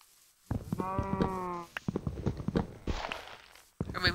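A sheep in a video game bleats in a quavering, drawn-out call over soft shuffling footsteps, with a few scattered clicks and rustles before and after.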